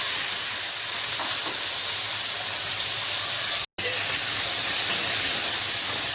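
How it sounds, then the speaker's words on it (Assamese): Fish rubbed with salt and turmeric frying in a hot kadai of mustard oil, a loud, steady, close sizzle that runs throughout with one brief cut-out midway and no speech. "এতিয়া মই মাছখিনি ধুনীয়াকে ফ্ৰাই কৰি ল'ম।"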